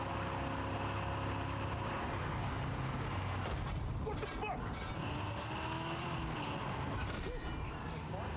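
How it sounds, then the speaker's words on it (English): Video game car driving on the road, a steady engine drone with occasional tire squeals and passing noise, continuous and fairly close, with a voice talking over it at times. "I am driving on the left side of the road."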